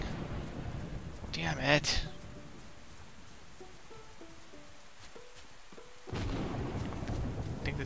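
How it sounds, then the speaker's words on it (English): Steady hissing rain falls in the survival game Windbound, drops away midway while soft musical tones play, then surges back. A man briefly exclaims early on. "I'm not gonna be able to cook any food while it's raining."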